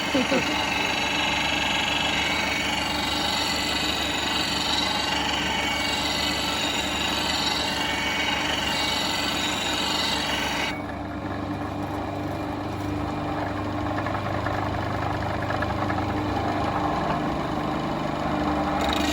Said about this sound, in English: I've got a lot of steel to remove here